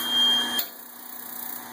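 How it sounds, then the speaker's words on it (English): A single short electronic beep from a Blichmann Tower of Power brewing system's auto igniter sounds, then cuts off into a faint hiss as the gas burner ignites. "The beep you hear is signaling that it's going to ignite the flame"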